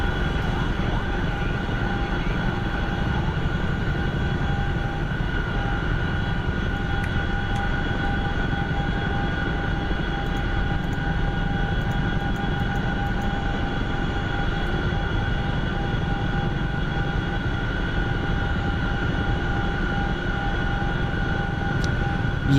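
Chinook helicopter in a flight simulator game, its engines and rotors droning steadily throughout with a constant turbine whine, loud and unbroken with no talk.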